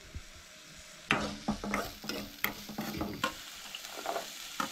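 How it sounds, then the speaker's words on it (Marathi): Onion frying in a pan for mixed vegetable cutlets, a soft steady sizzle with repeated stirring scrapes and light taps of a spoon against the pan, fairly quiet and close. "तर आमचो कांदो आसा न्हय तो मातसो असो भाजून घेवंक जाय."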